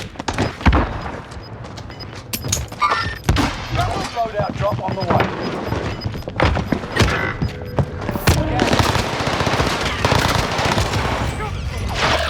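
A C58 rifle in the video game Warzone fires sharp bursts of shots, some rapid and clustered, others spaced, alongside louder booms and explosions, with someone talking over the action.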